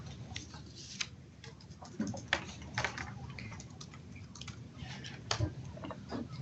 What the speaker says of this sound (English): somebody is typing a question